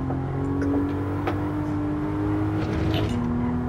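Steady engine drone of a modified or stock Toyota or Subaru lapping a track in Gran Turismo 7, a sustained tone with slight pitch shifts and faint tyre noise, continuous and without voices.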